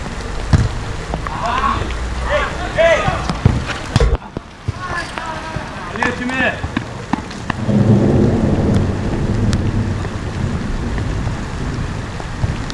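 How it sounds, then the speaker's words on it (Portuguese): Rain and gusting wind sweep over an outdoor society football match, a steady loud hiss with rumbling low gusts throughout, and voices calling in the background. "No momento que começa a chuva e o vento."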